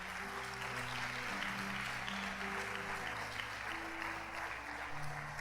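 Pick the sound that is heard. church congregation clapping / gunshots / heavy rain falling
church congregation clapping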